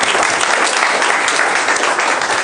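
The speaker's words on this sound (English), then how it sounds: "I want for all of you to give a round of applause" A seated crowd at a cybersecurity talk gives a loud, full round of applause, a dense wash of clapping that holds steady and begins to fade only at the end.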